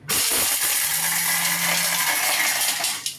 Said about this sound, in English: So you still hear some hard sounds moving around.